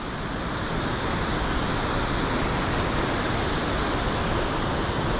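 Thornton Force waterfall pouring into its splash pool, with a stream rushing fast down the embankment beside it. A dense, constant roar of falling water, close and loud, unbroken across the whole stretch, with no voices.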